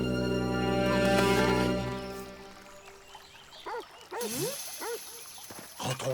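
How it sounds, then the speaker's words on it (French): A cartoon dog gives a few short yips and whimpering barks, scattered bursts after a fading musical passage, fairly close and moderately loud. "C'est le chien."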